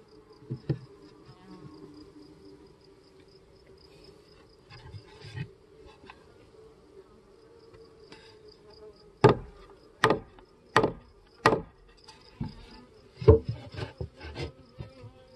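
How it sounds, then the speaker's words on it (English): Carniolan, Saskatraz and VSH honeybees hum steadily and faintly around a Langstroth hive, broken by a run of sharp wooden knocks and scrapes from the frames and hive box. "One bee there I want to get away."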